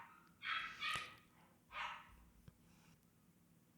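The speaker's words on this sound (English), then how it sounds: "Can you guys hear the dogs in the background?" Several small Morkie dogs bark downstairs in the background, two faint bursts of yappy barking with a short pause between them.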